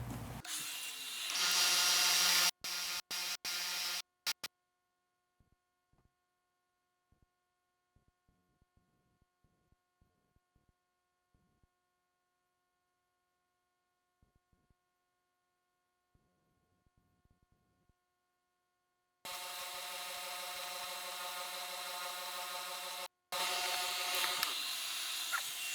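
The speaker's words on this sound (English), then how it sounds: "let's get some sanding done. Right up to the line." A power sander works wood on a small guitar body, running in steady loud whirring stretches at the start and end, separated by a long quiet gap with faint scattered taps.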